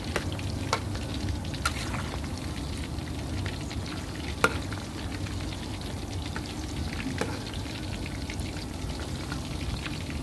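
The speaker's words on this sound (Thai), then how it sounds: "พอทอดไปสักพักเขาเซตตัวแล้วก็ คนเขาสักหน่อยนะคะเพื่อนๆเขาจะได้สุกสม่ำเสมอกันค่ะ" Seasoned pork coated in flour and herbs fries in hot oil and is stirred in a pan. A steady, dense sizzle runs throughout, with scattered sharp clicks and scrapes from the utensil.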